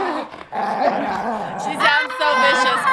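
A dog excitedly barks and growls in a playful tug game at an outdoor fair, the snarls loud and close and mixed with people talking and giving commands.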